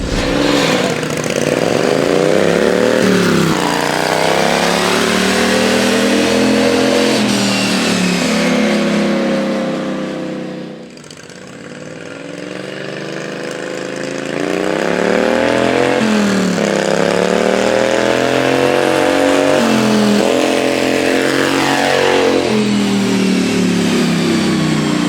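A mud mower with a newly replaced belt, revving hard during acceleration runs on a street: a loud, close engine roaring up through rising pitch sweeps, easing off midway, then climbing again through repeated surges.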